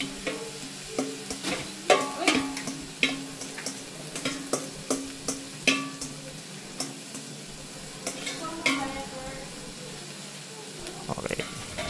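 Sautéed bitter gourd with egg is stirred in a frying pan, with a spatula scraping and clinking in repeated strokes over a steady sizzle, close and moderately loud.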